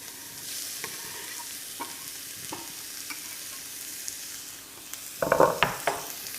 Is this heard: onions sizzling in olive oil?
yes